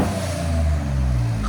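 A 2024 Ford Ranger Raptor with a 3.0L twin-turbo V6 and aftermarket exhaust revs in Baja mode, giving a loud, close, continuous deep rumble that holds steady with no break.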